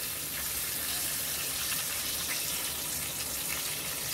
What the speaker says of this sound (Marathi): आणि याच्यात आता आपण थोडंसं पाणी पण घालणार आहोत.